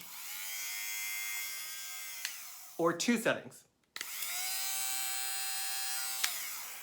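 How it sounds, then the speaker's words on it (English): An electric garment sweater shaver runs with a steady motor whir for several seconds, briefly interrupted by clattering handling sounds and a moment of silence, then resumes its even buzzing; a voice speaks briefly. "it's just like a nice garment sweater shaver"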